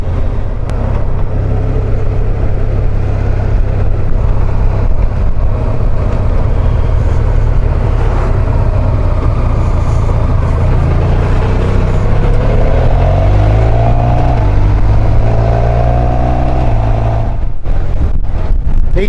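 A vehicle cruises on a freshly resurfaced road leading into Plan de la Tour, France, riding on new BattleAxe A41 tyres being run in, giving a steady loud engine and road drone with wind buffeting, easing off near the end.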